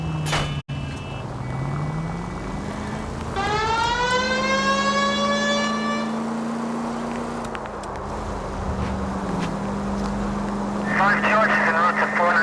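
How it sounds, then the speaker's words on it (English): A police car siren in the video game L.A. Noire rises into a steady wailing tone over a continuous engine drone, joined by an upward-sweeping harmonic whine midway and a warbling electronic burst near the end. "I've always found the siren useful in situations like this."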